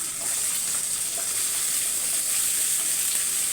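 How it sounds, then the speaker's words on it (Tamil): Cut potatoes fry in hot oil with curry leaves and garlic, a loud, steady sizzle that fills the whole stretch without pause. "இப்போ இந்த அளவு பொறிஞ்சு வந்தோடனே கட் பண்ண உருளைக்கிழங்க சேர்த்துக்கலாம்"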